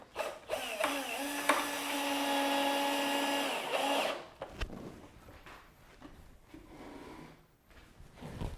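A power drill drives a screw into a hanger strap on a taxidermy turkey mount, whining steadily and close for about four seconds before stopping, followed by quieter handling noises.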